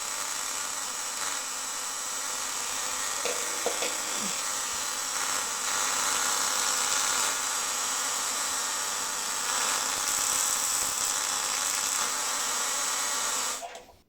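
A solid-state Tesla coil runs at a 10% duty cycle, a loud, continuous harsh buzzing hiss that holds steady for several seconds before cutting off abruptly.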